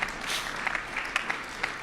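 An audience at a Kentucky–Ohio press event about the Brent Spence Bridge gives brief, light applause, a soft patter of scattered claps at moderate distance with a few sharper individual claps standing out.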